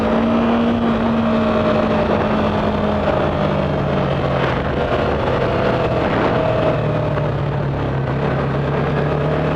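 A Yamaha YZF-R3 motorcycle engine drones steadily while riding slowly in first gear, a loud continuous hum with slowly sliding pitch and wind rush mixed in.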